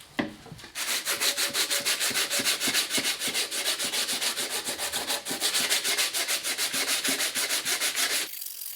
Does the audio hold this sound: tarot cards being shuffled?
no